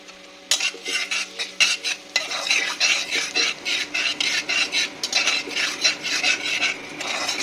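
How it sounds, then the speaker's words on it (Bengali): Panch phoron and black cumin fry in a pan, a quiet start giving way to a rhythmic series of scraping stirs over a light sizzle, close and steady, no speech. "পাঁচ ফোড়ন দিলাম আর দেব কিছুটা কালো জিরে এটা আমি ফোড়ন দেবো দিয়ে এটাকে এখন ভেজে নেব গন্ধটা ওঠা অবধি"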